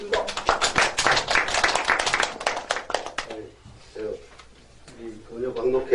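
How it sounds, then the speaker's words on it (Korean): Audience applause at a Korean lecture event, a burst of dense clapping for about three seconds that fades as a speaker begins talking. "박수로 청해 드리겠습니다."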